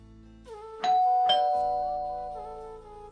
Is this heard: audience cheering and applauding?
no